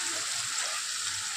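Water poured into a pan of frying potato and papaya curry, giving a steady, even hiss and sizzle with no breaks and no talking.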